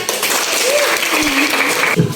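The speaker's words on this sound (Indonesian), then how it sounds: "beri tepuk tangan" Classroom applause for a student group that has just finished presenting during a teaching-practice lesson, a short burst of clapping from the class with a voice speaking over it.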